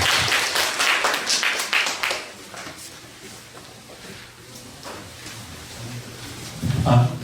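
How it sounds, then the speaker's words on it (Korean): An audience at a middle school admissions information session claps, a burst of applause that fades after about two seconds, followed by quiet room noise and a few stray claps. "다시 한번 박수 쳐주세요"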